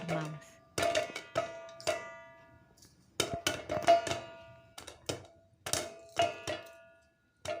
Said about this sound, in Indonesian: itu suara letupan jagung sudah terdengar